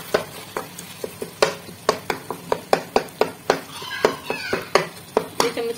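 A metal spoon mashes steamed tomatoes in a pan, producing a rapid series of sharp clinks and scrapes at an uneven rhythm, close and fairly loud, with a little faint sizzling underneath.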